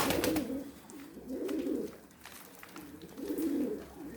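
Several pigeons coo in a crowded coop, low throaty coos repeating in close, rhythmic bursts with short pauses between them.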